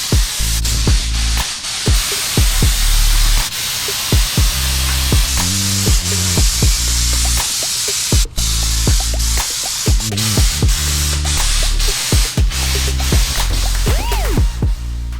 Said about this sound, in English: I'm gonna crank it up to about 60, 65 PSI now, just to make sure I get a good atomization